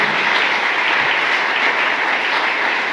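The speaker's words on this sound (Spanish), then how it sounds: "El aplauso para el ingeniero Ernesto Rivera Fermín," Audience applause at a formal presentation on historical findings, a dense, steady wash of clapping from many hands filling the room, loud and continuous without a break.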